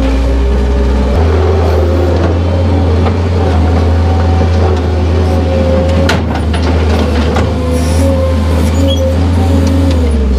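A tractor engine drones loud and steady close by while its loader forks work through hay and manure on snowy ground, with a constant low rumble and occasional clunks and scrapes over it.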